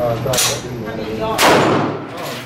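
Two loud blasts from a .357 Magnum revolver fired outdoors, about a second apart, each with a sharp crack and a rumbling tail.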